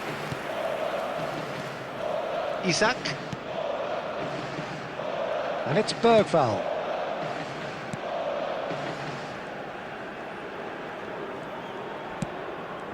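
A football crowd in a FIFA match between the Netherlands and Sweden roars in a steady broad wash with a couple of sharp swells, under a commentator's voice.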